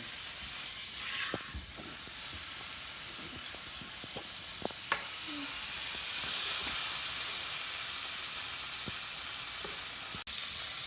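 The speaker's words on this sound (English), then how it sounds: "Make sure you sear all the sides of your beef tenderloin." Beef tenderloin sears in a hot pan, giving off a steady broad sizzle and hiss that swells slightly midway, with a few small pops and one sharp knock near the end.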